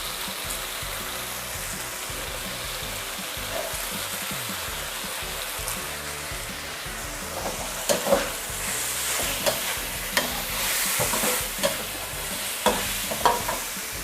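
Blanched chicken liver is stir-fried with torn kaffir lime leaves for pad kaphrao, a continuous sizzle with a few sharp spatula scrapes and clacks in the second half, close and clear.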